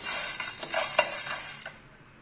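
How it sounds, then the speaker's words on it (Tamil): Black peppercorns dry-roast in a pan, a bright crackling hiss with light rattling clicks as they are tossed, close and fairly loud before fading out near the end. "மிளகு நூறு கிராம் இதையும் நம்ம வறுத்துக்கலாம் ஒரு மாதிரி படபடன்னு பொரியும்"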